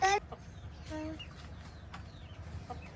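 Desi chickens on a small rooftop farm give a few short clucks and soft calls, close but fairly quiet, against a low background.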